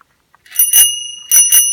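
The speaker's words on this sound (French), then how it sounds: "la petite cloche qui marche toujours" A small old bell rings sharply and close, several bright metallic strikes in two pairs with lingering ringing tones and no talking.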